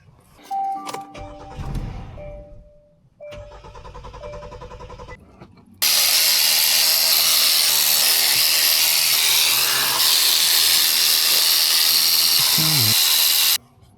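A power tool backs screws out during a car fuel line repair, first in short whirring bursts, then a loud, steady high-pitched whine that runs for about eight seconds before stopping.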